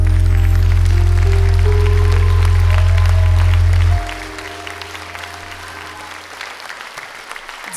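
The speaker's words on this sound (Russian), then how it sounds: "Аплодисменты вам!" Concert audience applauding after a children's vocal studio performance, a dense, loud clapping that stays steady over a low sustained tone which cuts off midway, after which the clapping carries on alone and slightly thinner.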